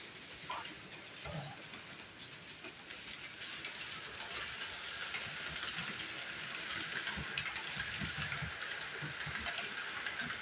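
Model trains running on a layout with a Burlington Northern F unit, a continuous soft rumble and clickety-clack of wheels that grows slightly fuller over time.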